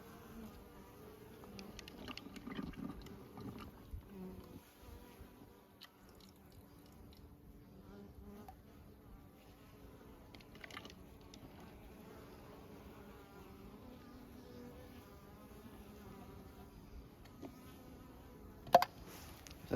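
Bees buzzing around syrup feeders at an apiary where pollen substitute is provided, a faint, steady insect hum with occasional louder passes and a sharp knock near the end.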